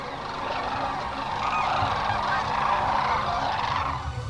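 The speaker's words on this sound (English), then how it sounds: "Today you will witness the sandhill cranes on one of their most favored stretches of river." Dense chorus of sandhill cranes calling along a favored stretch of river during migration, a continuous wash of overlapping rattling calls from a large flock, loud and steady throughout.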